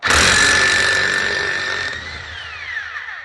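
Power tool zapping off the clutch nut on a Honda CBF 250 motorcycle, a loud close burst of whirring with a ringing metallic tone that decays and spins down over about three seconds.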